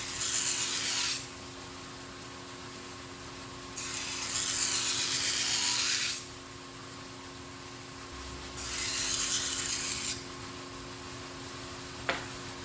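A premium kitchen knife blade being ground on a whetstone during a remake, three long bursts of loud rasping, hissing strokes separated by quieter pauses, close up, with a faint steady hum underneath.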